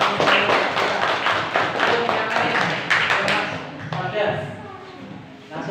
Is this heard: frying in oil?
no